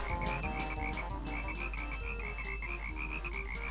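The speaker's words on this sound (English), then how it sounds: "For now, we're just going to beat up these frogs." Flibbit frogs in the Banjo-Kazooie video game croak in a steady, rapid chorus over looping game music, loud and continuous with no talking.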